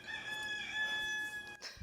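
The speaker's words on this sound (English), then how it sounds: "Did you guys hear my rooster?" A rooster crows in a house, a single drawn-out cock-a-doodle-doo with steady harmonic tones, fairly faint and heard alone.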